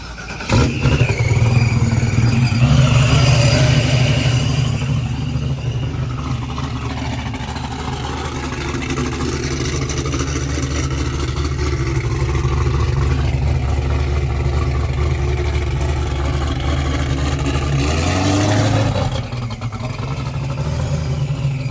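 Drag racing cars at a test-and-tune session at Holly Springs Motorsports, a loud continuous engine roar with a low droning rumble throughout, rising sharply near the end before dropping away.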